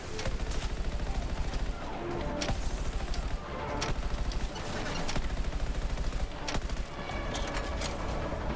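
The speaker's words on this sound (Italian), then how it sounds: "Ok, sparo con colpi più brevi" Rapid gunfire bursts from the video game Anthem, a string of short, sharp shot clusters repeating every second or so at an even, moderate level with no talk over them.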